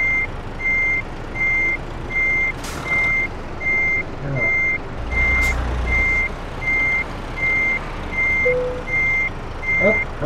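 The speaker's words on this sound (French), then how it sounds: "Quand vous reculez, quand vous tournez à gauche, automatiquement la remorque va à droite." A truck with a trailer reverses in Euro Truck Simulator 2, its backup alarm sounding as a steady series of evenly spaced high beeps over a low engine rumble, with a short air-brake hiss near the middle.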